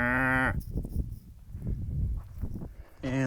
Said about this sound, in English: We have cows on the trail today.